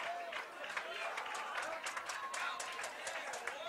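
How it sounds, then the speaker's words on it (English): Fans cheer from the stands at a boys varsity lacrosse game, a faint distant crowd roar with scattered claps beneath a voice talking over it. "Raider fans are cheering"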